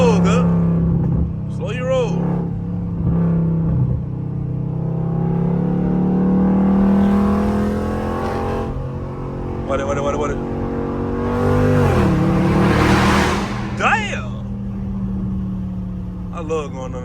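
Dodge Scat Pack engine revving and rising in pitch through downshifts while driving in traffic, heard from inside the cabin with loud surges and drops, and someone talking over it.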